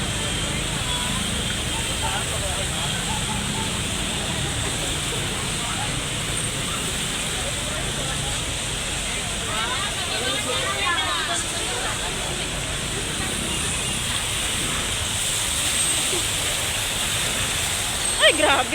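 Floodwater after rain on McArthur Highway in Karuhatan, Valenzuela, giving a continuous rushing, splashing wash across the whole stretch, with people talking and traffic faintly mixed into the steady noise.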